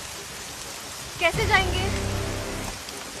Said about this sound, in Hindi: बारिश बहुत ज्यादा है, थोड़ी देर रुक जाओ।